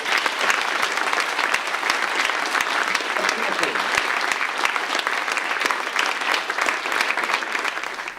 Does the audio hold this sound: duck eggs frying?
no